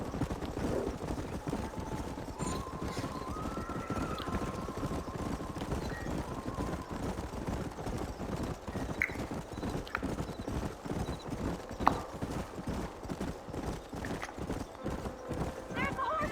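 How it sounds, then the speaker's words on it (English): Horses in the Red Dead Redemption video game trot with steady clip-clop hoofbeats and whinny now and then, moderately near, while speech and background game sounds run underneath. "There's the horses!"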